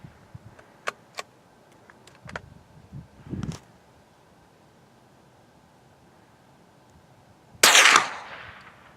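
During ballistic testing, a single loud gunshot cracks out with a decaying hiss after it, preceded by scattered faint clicks and a couple of short dull knocks, with quiet background in between.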